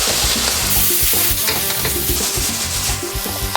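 Chorizo, chicken and capsicum fry in a paella pan with paprika, a steady loud sizzle broken by frequent scraping stirs and clatter, close up with no talking.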